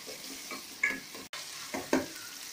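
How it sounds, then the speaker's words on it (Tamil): Mustard seeds, urad dal, cumin and large onion sauté in hot oil for a brinjal gravy, a soft continuous sizzle broken by a few distinct scraping stirs and a brief dropout. "தாளிப்பதற்கு கடுகு, உளுந்தம்பருப்பு, சீரகம், பெரிய வெங்காயம் போட்டு வணக்கிட்டு இருக்கேன்"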